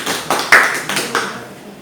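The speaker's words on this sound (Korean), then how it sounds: "박수 한번 부탁드릴게요." Audience members at a lecture on writing business plans for social enterprise startup teams give a brief, sparse round of clapping, a handful of distinct claps close by that quickly trail off.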